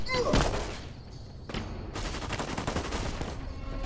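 Gunfire in the video game Fallout: New Vegas crackles in loud bursts of overlapping shots and rattling volleys, with a sharp blast early and another near the middle.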